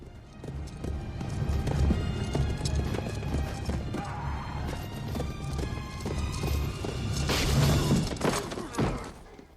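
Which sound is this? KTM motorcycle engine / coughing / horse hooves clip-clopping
horse hooves clip-clopping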